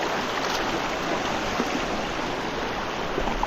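Steady broadband rushing of flowing river water, constant and moderately loud, with no voices.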